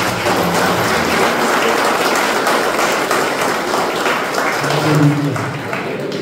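A church congregation clapping hands during a service: dense, sustained applause from many people throughout, fairly loud and even, with a voice speaking faintly over it.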